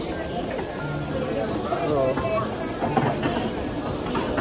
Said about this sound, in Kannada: ಟ್ರೈನ್ ಬಂದು ನಿಂತಿದೆ